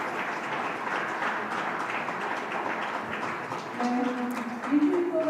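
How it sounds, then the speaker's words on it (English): Audience applause at a youth leadership forum closing ceremony in Jeju, a steady, moderately loud wash of clapping through the whole stretch, with a voice beginning to speak near the end. "please give them a warm round of applause once again"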